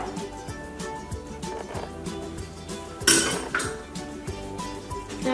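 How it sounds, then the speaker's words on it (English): Chopped guacamole ingredients are scraped and dropped into a bowl, with knocks and clinks of utensils against dishes, close and intermittent, and a louder clatter midway. "So now we are done cutting, so we can put this all in our bowl."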